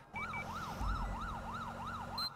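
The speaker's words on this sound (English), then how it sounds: "Are you just tapping the siren or is it just bugging out for me?" A police car siren in a video game wails in a steady repeating rise-and-fall cycle, loud and close over a low engine rumble, with no talking.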